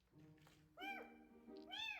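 A kitten gives two clear meows, the first short and faint, the second louder and drawn out, with a softer murmur before them.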